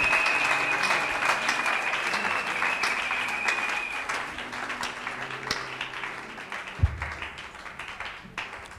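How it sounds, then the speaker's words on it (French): A church congregation claps their hands for Jesus, sustained applause from many people that stays steady for several seconds before thinning out, with a bright tone held over the start. "Betela Yesu Kristo maboko."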